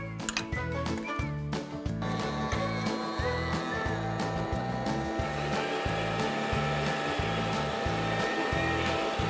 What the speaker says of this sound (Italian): Lo sai perché si chiama aspirapolvere? Perché proprio aspira tutto il polvere che vede.